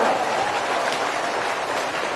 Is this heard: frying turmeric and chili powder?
no